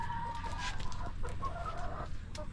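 A hen clucks repeatedly while laying an egg, busy clucking calls rising and falling over steady background noise, with other fowl audible nearby.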